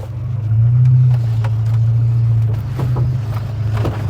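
A modified Volvo 240 drives along with a loud, steady low engine and road drone. Faint knocks and rattles from the suspension show through it now and then.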